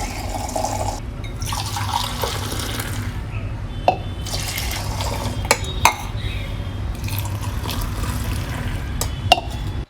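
Milk is poured to mix 3-in-1 coffee: a steady, close stream of liquid runs for several seconds, broken by a few sharp clinks of a cup or utensil.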